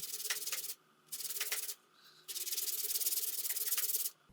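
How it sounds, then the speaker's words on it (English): Fine sanding sponge rubbed back and forth over wooden tabs, making three close, loud bursts of raspy scraping separated by short pauses, with no voices. "I use a fine sanding sponge for this to make sure the sides are nice and smooth."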